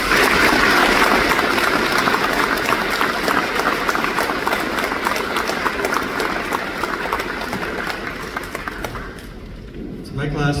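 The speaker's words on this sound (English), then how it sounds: "If everyone could give a round of applause to our beloved parents and guardians" A graduation audience applauds parents and guardians with sustained, dense clapping from a large crowd at an evening ceremony, loud at first and tapering off toward the end as a voice comes in.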